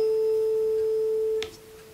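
A 440 Hz tuning fork set ringing by resonance gives a steady, pure sustained tone that holds evenly, then is cut short by a brief knock as it is damped, leaving only a faint trace.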